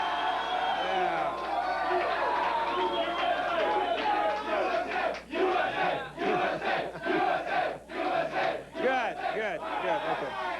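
A 1986 television studio audience cheers and shouts in loud, surging bursts of whoops and yells, rising and falling in several waves with voices overlapping throughout.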